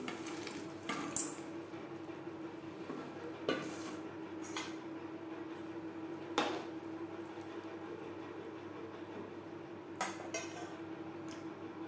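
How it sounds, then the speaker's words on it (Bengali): Fried pakoras go into a simmering yogurt and gram-flour curry, heard as scattered clinks and knocks of utensils against a pot over a quiet, low bubbling background. "দিয়ে দেবো ভেজে রাখা পকোড়া"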